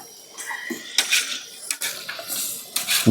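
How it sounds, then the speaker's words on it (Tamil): Chicken being sautéed in a pot for village-style biryani, with short metallic clanks and scrapes of a ladle stirring against the pot, brief and close. "சிக்கனை ஆட் பண்ணியாச்சு மாஸ்டர். போடுங்க மாஸ்டர், நல்லா வதக்குங்க."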